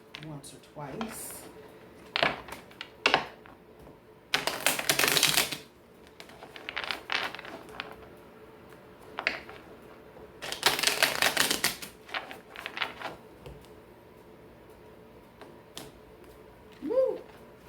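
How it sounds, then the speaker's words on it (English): Tarot cards are shuffled in short bursts: two longer riffling flurries and scattered quick snaps and taps, close and crisp. A voice talks at moments between them. "Shuffle these once or twice."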